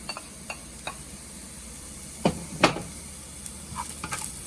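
Scallion and onion are stirred slowly in a frying pan, with a few quiet scrapes and soft clinks over a faint, low sizzle.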